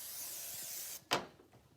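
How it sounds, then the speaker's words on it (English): Cooking spray hisses onto a baking pan for dog biscuits, a faint steady spray for about a second, then a short sharp burst followed by a quiet tail. "We're going to spray our pan."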